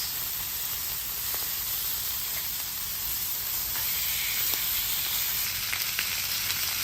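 Pork sizzles in lard on a hot griddle with a constant, dense, close hiss and crackle and a few sharper pops. It holds steady for several seconds with no voices.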